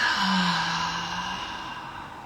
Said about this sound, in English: Deep inhale. Let it out.